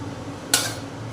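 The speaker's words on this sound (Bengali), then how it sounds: "এবার আমি ঢেকে দেবো আলুটা যতক্ষণ না সেদ্ধ হয়" A lid is set over a pot of potatoes cooking for alur dom, giving one brief close clank in a quiet kitchen, followed by a fainter second touch.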